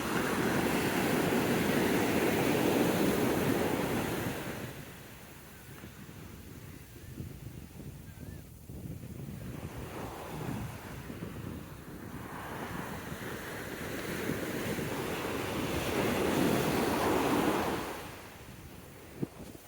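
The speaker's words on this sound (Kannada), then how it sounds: "ಇಲ್ಲೊಂದ್ಸಲ ಅಲೆ ನೋಡಿ ಹೆಂಗೆ ಬರ್ತದೆ ಹೇಳದೆ" Ocean waves surge and crash onto Kumta beach in Karnataka, two big roaring swells building and breaking with a quieter churning wash between them, all under steady wind buffeting the microphone.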